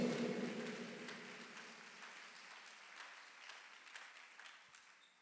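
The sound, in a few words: church congregation round of applause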